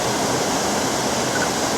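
Linn Falls pours in a steady, broadband rush of falling water, a constant hiss-and-roar that stays even throughout with no other sounds over it.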